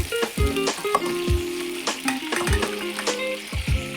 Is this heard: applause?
no